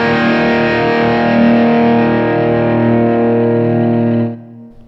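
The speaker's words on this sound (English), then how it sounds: "the next pedal in the tone workstation is the 1962 Overdrive by Keeley. And here's how that sounds with everything all the way up." Electric guitar through a Keeley 1962 Overdrive pedal with every control turned up, a single thick, heavily distorted sustained chord ringing loudly for several seconds before being choked off near the end.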